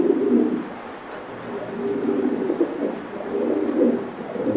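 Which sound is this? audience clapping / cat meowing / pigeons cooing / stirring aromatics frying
pigeons cooing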